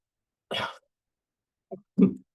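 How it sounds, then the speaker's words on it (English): Three dry coughs after COVID, one sharp bark followed after a pause by a short hack and a fuller cough, close by in a quiet room. "I got a little bit of a dry cough post-COVID"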